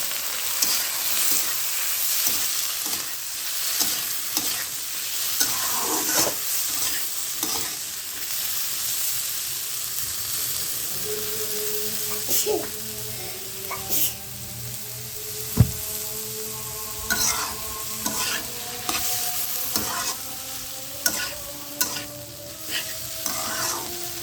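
Potatoes and carrots stirred and frying in a pan, a steady sizzle with repeated scraping and clattering stir strokes throughout, growing busier toward the end, with no talking.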